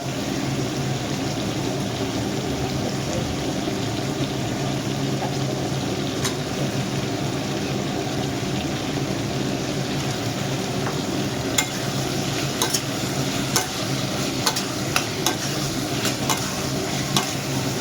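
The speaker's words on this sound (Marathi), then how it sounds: "आता आपण टाकूया वांगी टाकूया" Eggplant stirred into a prawn masala in a pan, giving a steady close sizzle and frying hiss with scraping stir strokes and a few sharper clicks near the end, no talk.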